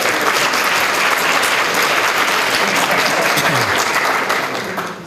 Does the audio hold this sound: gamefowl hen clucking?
no